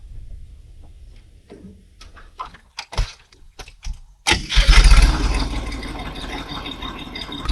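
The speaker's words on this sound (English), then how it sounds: "I'm going to drop the loader until the feet touch the ground" Cat 304 compact machine with a loader attachment, engine starting after a few clunks and rattles, then running loudly and steadily close by.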